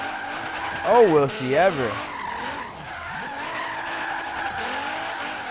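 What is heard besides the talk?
car drifting with tires skidding in video game Forza Horizon 3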